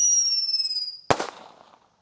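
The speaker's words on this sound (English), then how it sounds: "I actually thought these were 5-shot Roman candles" A daytime Roman candle fires outdoors: a high whistling tail fades, then one sharp, loud salute bang cracks and decays into a crackling rumble before silence.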